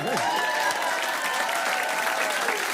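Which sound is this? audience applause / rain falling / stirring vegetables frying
audience applause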